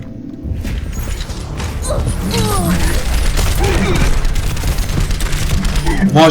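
Gunshots and thuds boom through a busy video game firefight, layered with mechanical clatter and crashes, while a player's voice talks over the noise.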